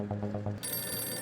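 A phone rings briefly in an Indian sitcom household, starting as a quick run of rhythmic low trills before switching to a brighter, sustained electronic ringtone, close by with no talking.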